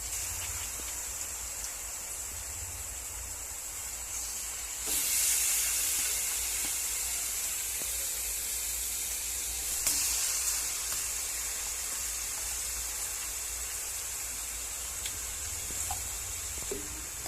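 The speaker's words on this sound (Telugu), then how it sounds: "ఇప్పుడు కీమా యాడ్ చేసుకోవాలి." Half a kilo of minced mutton keema fries on low heat in a pan after ginger-garlic paste, a soft continuous hiss with two brief louder bursts, quiet and without talk.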